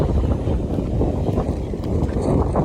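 Steady low buffeting of wind hitting a microphone outdoors on a mountain trail, loud and continuous with rumbling gusts and no talk.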